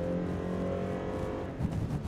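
A 2019 Toyota Land Cruiser Prado with a naturally aspirated engine accelerates hard from a standstill. A steady close engine drone shifts as the revs climb, loud and alone with no talk.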